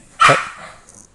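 A single sharp dog bark sounds at mid distance in a home where a child is playing with the dog, followed by a faint trailing whine.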